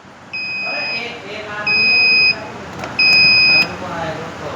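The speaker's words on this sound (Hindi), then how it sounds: "अब देखिए अलार्म आ गया।" Pressure controller alarm sounding three loud electronic beeps, each lasting under a second with short gaps between, over a low background hum.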